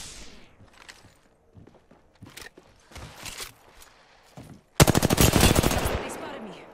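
Automatic gunfire aimed at the player in Apex Legends, a fast loud burst of rapid shots near the end after quieter footsteps and game sounds.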